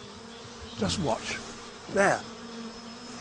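A honeybee colony confronted with a fake hornet on a stick performs its shimmering wing-raising defence wave, heard as a loud buzzing surge twice, with a brief spoken word between.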